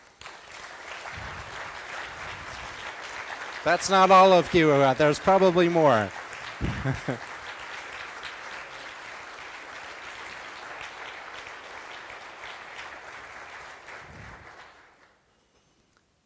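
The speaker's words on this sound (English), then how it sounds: "let's stand up and give you a round of applause as well" Conference attendees at the Ubuntu Summit give a sustained round of applause in a large hall. Someone briefly speaks over the clapping partway through, and the applause carries on evenly before stopping abruptly near the end.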